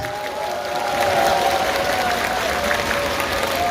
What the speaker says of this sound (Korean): 우리 호우시보 팬 여러분들께 다시 한 번 큰 박수 부탁드리겠습니다.